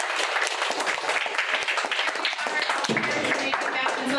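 Audience applause at a middle school event, a dense, steady wash of many hands clapping throughout, with some voices and cheering mixed in.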